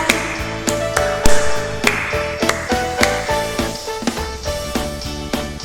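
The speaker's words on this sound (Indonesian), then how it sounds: "Mari tepuk tangan buat Tuhan." Children and leaders at a kids' worship service clap in rhythm with an upbeat praise song, steady sharp claps riding over the accompanying music.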